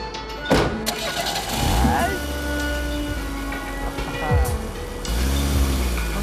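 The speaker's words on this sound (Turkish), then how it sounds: "Çalıştı araba Rüstem." A car engine cranks and catches in a Turkish TV drama scene, then runs at a steady idle with a slight rev. Voices speak over the engine throughout.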